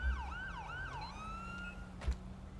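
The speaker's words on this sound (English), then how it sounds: "my siren doesn't shut off on its own." A police siren in the video game GTA V wails in repeated rising and falling sweeps over a steady low engine hum, with a brief thump near the end.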